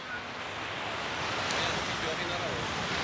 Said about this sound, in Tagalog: Ganito yung dagat.